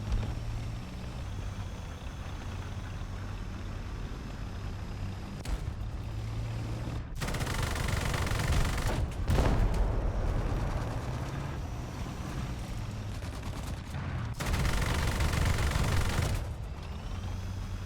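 Gunfire in War Thunder rings out during a light tank drive-by on a T-55: loud bursts of cannon and machine-gun fire in several clusters over a rumbling engine drone, with sharp cutoffs between the bursts.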